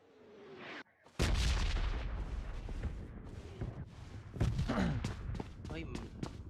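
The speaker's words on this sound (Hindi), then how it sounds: "ग्रेनेड।" A grenade detonates in a multiplayer shooter video game, one sharp heavy blast after a brief near-silence, followed by a rumbling tail and further thumps and shots, with a voice talking over it.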